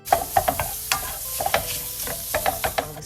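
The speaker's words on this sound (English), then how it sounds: "While the sausage is sizzling" Sausage sizzles in a hot pan with a steady crackle, while several sharp clinks and scrapes of a utensil stirring come and go.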